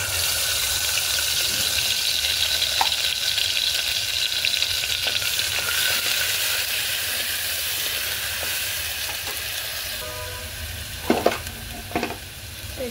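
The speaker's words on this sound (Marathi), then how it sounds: "कुकरमध्ये 2 पळी तेल टाकलं आहे, त्यात 2 चमचे वाटण टाकलं आहे" Spice paste frying in oil inside a pressure cooker for a dry chicken dish, a loud continuous close sizzle and hiss with a few brief clinks of stirring near the end.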